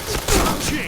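A brief burst of gunshots from a shooting video game during headshot practice sounds as loud, close thumping shots that are quickly over.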